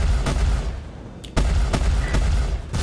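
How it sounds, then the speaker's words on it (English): Quad laser cannons firing in the Star Citizen space game, a series of loud, sharp blasts in quick succession over a dense, rumbling engine background. "No one can escape the quad laser."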